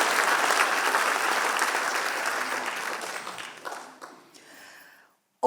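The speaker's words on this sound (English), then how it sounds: "that should not stop us from applauding loudly once more for Baban so that their work is celebrated." Audience at a wildlife conservation awards ceremony applauding loudly, sustained dense clapping that gradually thins and fades out, ending in a few scattered claps and a brief sharp noise.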